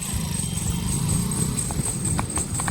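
A mare arrives with steady hooves clip-clopping nearby at a walking rhythm, over a low background rumble.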